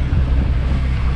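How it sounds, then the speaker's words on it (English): Sailboat auxiliary motor running under a headwind with sails lowered, on a coastal island passage in Croatia: a steady, loud low engine drone mixed with wind rush and water noise throughout, with no voices. "pulled the sails down and started the motor"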